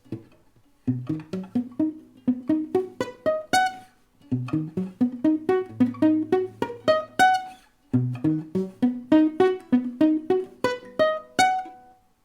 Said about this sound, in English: once we add the pizzicato, it sounds like this